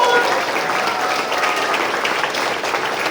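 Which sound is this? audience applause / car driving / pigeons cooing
audience applause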